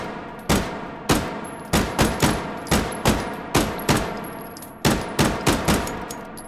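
A Mk. 22 Mod 0 Hushpuppy suppressed pistol fires in the virtual-reality shooter H3VR, emptying a magazine. About a dozen loud, sharp shots come in a fairly steady rhythm, each with a short decaying tail, with no voices.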